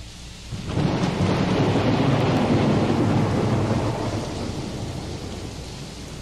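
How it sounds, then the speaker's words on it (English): Recorded rain and a long rolling rumble of thunder open a song, the thunder swelling loud after a quiet start and slowly fading over steady rainfall. "I love the sound of rain."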